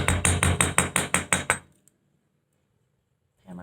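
Seven quick, evenly spaced metallic hammer blows strike wire being flattened for earrings, bright ringing taps close up, then silence before a brief sound at the end.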